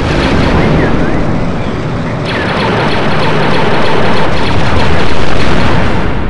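A power source blows up in the Star Wars Battle for Naboo game, a loud, sustained, rumbling explosion roar that fills the whole stretch and swells slightly toward the end.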